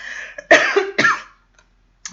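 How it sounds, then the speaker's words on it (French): Two harsh coughs close together, loud and near, followed by a brief quiet stretch with a faint click at the end. "Pardon si je tousse un petit peu"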